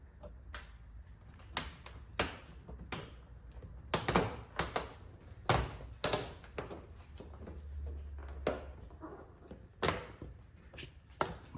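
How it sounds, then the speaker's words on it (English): A series of sharp plastic clicks and snaps, some doubled, spaced irregularly over a low steady hum, close and fairly loud, as gloss black waistline trim clips fasten onto a Mini F56 body. "All those are going to clip, and you'll hear that as it fastens itself to the body."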